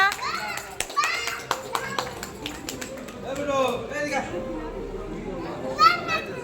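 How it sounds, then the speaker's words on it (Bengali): Scattered handclaps at a child's first birthday party, mixed with children's chatter and adult voices in a lively room. "সবাই হাততালি একটা"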